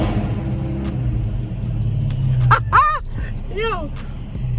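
Car engine revving nearby, a low rumble rising in brief surges under a voice talking, with a few sharp squeaky chirps cutting through toward the end.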